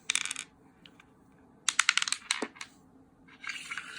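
Small standard white household dice click and rattle as they are handled and set down, in a few short, sharp bursts separated by quiet gaps, close up and with no talking.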